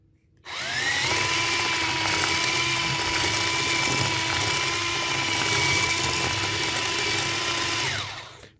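A Kiwi KMX-3612 cordless hand mixer runs on its third speed: a steady, loud electric whine starts abruptly, holds evenly for about seven seconds, then cuts off.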